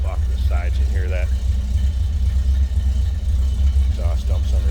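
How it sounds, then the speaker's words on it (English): A 1970 Chevrolet C10 pickup's 350 V8 idles steadily with a deep, rumbling exhaust note through turn-down tips, loud and continuous, while a person talks over it now and then. "Exhaust dumps underneath. Turn down exhaust tips. It's a good sounding 350"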